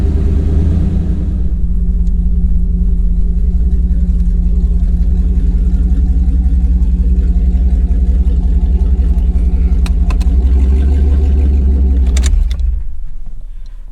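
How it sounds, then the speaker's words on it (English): A one-ton Jeep ZJ engine runs with a loud, steady low rumble while the vehicle drives, close and constant, dropping away abruptly near the end. "Alright, it runs and drives."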